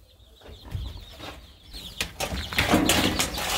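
A mother hen on a Texas farm clucks among her chicks, with soft repeated clucks and peeps close by, growing busier and louder with some rustling toward the end.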